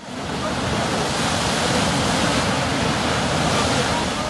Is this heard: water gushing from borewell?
yes